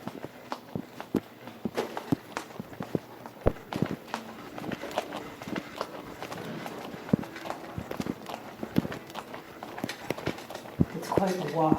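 Footsteps on a long outdoor walk, a steady series of close, crisp steps with faint background noise and a few louder scuffs throughout.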